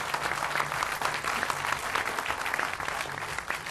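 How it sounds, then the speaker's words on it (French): Crowd claps for a young rider named at a mountain bike school event by the lakes, brisk continuous applause held at an even level throughout, no voices over it. "Je vous demanderai d'applaudir Maxime Van Weisberg"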